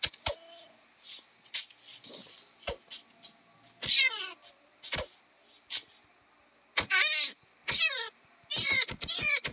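Minecraft cat meowing in-game, a series of short, sharp meows scattered across the stretch, some quick and clipped, others drawn out with a wavering pitch, clear against near silence.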